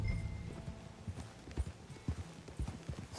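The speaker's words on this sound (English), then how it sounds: "get back on your horse." Horse hooves clip-clop at a walking pace in Red Dead Redemption 2, a soft, uneven rhythm of muffled steps on dirt, fairly quiet with faint ambient background.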